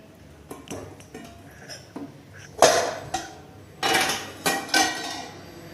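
A spoon clinking against dishes while chili is added to food, a series of sharp metallic clinks and taps, several louder knocks in the second half, with no talking.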